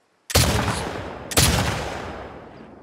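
Two loud, close gunshots ring out in The Last Of Us Part 2 about a second apart, each a sharp crack followed by a long echoing decay.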